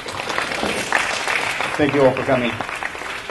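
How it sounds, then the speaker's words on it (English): An audience applauds the guest artist at an artist's dialogue, a broad steady clatter of clapping that carries on as someone speaks over it through the second half. "Please give a round of applause to Mr."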